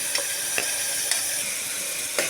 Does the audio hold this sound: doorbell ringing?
no